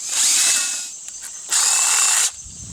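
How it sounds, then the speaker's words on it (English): A power drill whines at high pitch while boring holes into a ribbed tin can for a hobo can tripod, two loud bursts separated by a short pause, close and alone. "we're going to take the drill, and we are going to drill"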